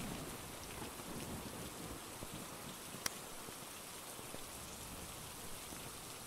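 Steady rain pours down in the Phasmophobia ghost-hunting game, a constant dense hiss throughout with one brief sharp click near the middle.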